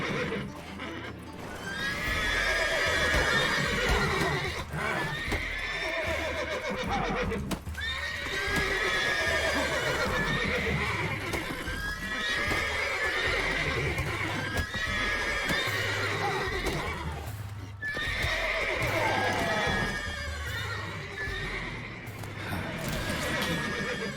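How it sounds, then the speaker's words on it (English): Several horses whinnying loudly in a long, repeated series of shrill neighs, each call rising and fading, over continuous hooves clip-clopping close by, with no talk. "those are some loud horses."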